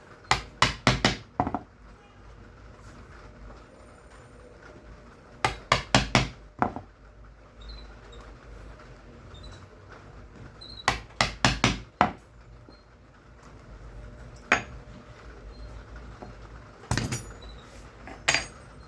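Holes punched into a handmade sheath make clusters of sharp, close knocking taps that come in quick bursts, separated by quieter pauses.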